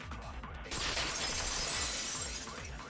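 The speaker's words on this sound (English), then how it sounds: "That sounds like a lot of breaking." Breaking and shattering in the video game Danganronpa V3: a loud, sustained crash of bright shattering noise that bursts in abruptly and holds steady to the end, over a low repeating background pulse.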